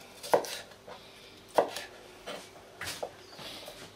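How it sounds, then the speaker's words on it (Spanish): Knife chopping a thick-fleshed bell pepper on a cutting board in a home kitchen, several sharp separate thuds at irregular spacing, close and clear with no talk. "Vamos a partir el pimiento."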